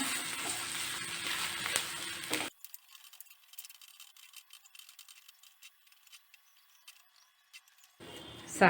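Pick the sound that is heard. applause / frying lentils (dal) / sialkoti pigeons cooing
frying lentils (dal)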